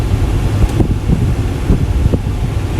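An F150 truck's cabin air conditioning blower runs turned up high, a loud, steady rushing whoosh of air with faint low thumps underneath.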